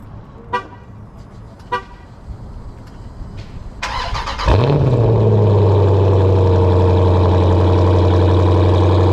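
A Jeep SRT8 cold start: two short beeps from the vehicle, a starter crank, then the engine catches with a loud roar that settles into a steady, deep, rumbling high idle, heard close by.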